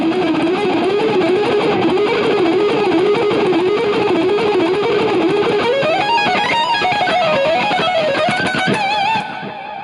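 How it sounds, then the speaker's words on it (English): Distorted electric guitar rips through a fast picked lick, loud and dense with effects, the line climbing higher near the end before cutting off abruptly. "if you connect that with the previous picking lick of doom, it would sound something like this"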